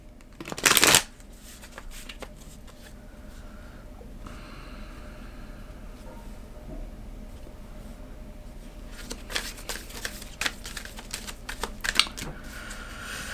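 A deck of cards shuffled close up, opening with a sharp loud riffle, then a long stretch of quiet rustling and tapping that picks up again into brisk shuffling toward the end, with no voices.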